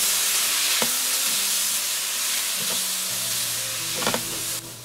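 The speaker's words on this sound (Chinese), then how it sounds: "翻炒均匀即可出锅" Lamb stir-fried with garlic sprouts, cumin and rice wine sizzles steadily in a hot pan, with a few clanks of the spatula against the metal as the ingredients are tossed.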